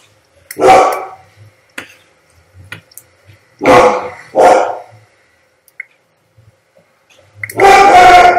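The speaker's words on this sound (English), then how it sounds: "That was my dad telling my dog Quincy to shut up." A dog barks loudly and close by in several separate bursts, with a pair of quick barks in the middle and a long, harsh final burst. Brief clicks and knocks fall between the barks.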